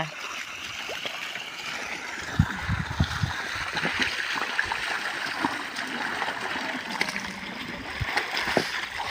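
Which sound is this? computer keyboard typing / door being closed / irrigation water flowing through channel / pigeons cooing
irrigation water flowing through channel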